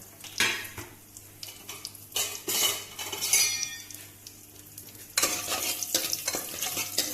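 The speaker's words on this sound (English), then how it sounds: "We'll just wait for spices to get a little roasted." Cardamom, clove, bay leaf and a piece of cinnamon roast in a pan for lamb korma, with crackling sizzle, spoon scrapes and metallic clinks in uneven bursts, growing louder and denser near the end.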